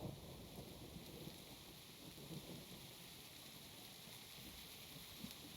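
Rain and rumbling thunder in Minecraft, a soft, steady wash of falling rain with a low, distant roll of thunder beneath it, faint and continuous, with no voices.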